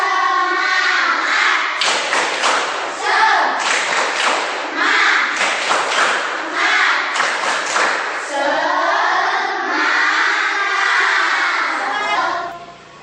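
A school class doing rhythmic spirit clapping together, bursts of patterned claps mixed with children's chanting voices, close and loud, trailing off near the end.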